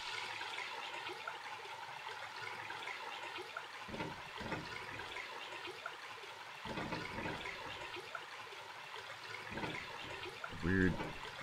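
A steady rushing, trickling water effect from the video game Cargo: The Quest for Gravity, continuous and fairly soft throughout, with a few brief bumps in the noise.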